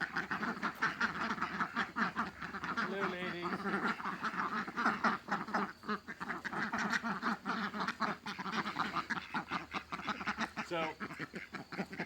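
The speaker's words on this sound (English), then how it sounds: "As we move this way, we've got all the ducks here." Many ducks quacking loudly and continuously close by, a busy overlapping chorus, with a person briefly speaking over them.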